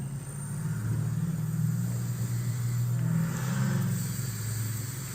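A supercharged Chevrolet Camaro SS making about 719 rear-wheel horsepower holds a steady, loud low rumble on a chassis dyno. The engine sound swells slightly midway and continues without a break, with no talk over it.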